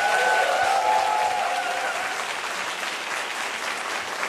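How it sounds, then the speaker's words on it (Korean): Big applause from a crowd at a Hearthstone esports award ceremony, steady and loud throughout with a faint tone early on, gradually easing slightly. "끝까지 최선을 다해준 우리 하스스톤 선수 가스스톤 선수에게도 다시 한번 큰 박수"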